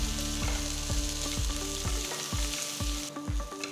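Onions and green chillies sizzle and fry steadily in a hot pan while a spoon scrapes and stirs in a regular rhythm.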